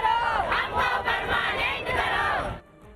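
A large crowd of protesters, many of them women, shouts demands for jobs in loud, continuous collective yelling that rises and falls, then cuts off near the end.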